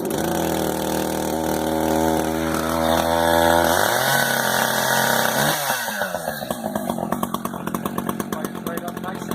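An Echo Timber Wolf CS590 chainsaw on its first start, pulled over at half choke, catches and runs loud and close, its engine note shifting as it revs up and settles.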